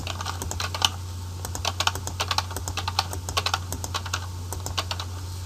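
Rapid typing on a computer keyboard while entering data into an Excel form, a close, steady run of light key clicks in irregular bursts over a low electrical hum.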